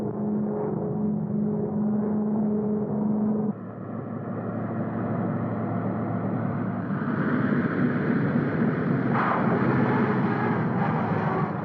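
A TWA airliner coming in to land, a loud sustained engine roar with a low droning tone that shifts midway and grows broader and brighter toward the end.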